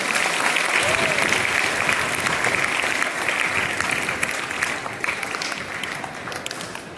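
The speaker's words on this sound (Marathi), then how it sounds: "या सर्व 61 विद्यार्थ्यांसाठी सर्वांनी एकदा टाळ्या वाजवायच्या आहेत" Sustained applause from a school audience at a speech-competition prize ceremony, honoring 61 student speakers; steady dense clapping throughout, slowly tapering toward the end.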